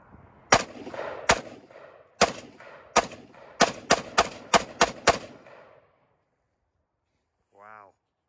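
About eleven loud gunshots ring out one at a time at targets, sharp cracks with echoing tails in an uneven rhythm, followed by silence and a short tonal sound near the end.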